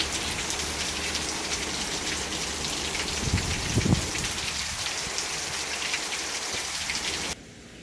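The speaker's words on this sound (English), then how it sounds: "Good rain. Thank you, Lord." Steady heavy rain falling on surfaces during an evening storm, a dense continuous hiss with a brief low thump midway, alone and close, cutting off abruptly near the end.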